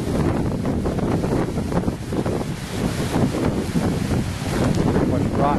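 Strong wind gusting up to 50 miles per hour during Hurricane Irene buffets the microphone in rough bursts, a constant loud roar with surging peaks throughout.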